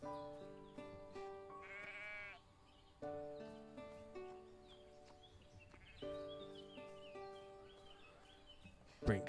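Sheep in the farming game Everdream Valley bleat repeatedly, several overlapping calls in bursts over a light musical background, with a person talking now and then.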